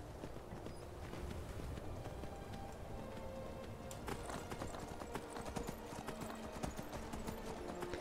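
Horse hooves clip-clopping at a steady walking pace in the video game The Elder Scrolls V: Skyrim, with a faint hiss like light rain in the background.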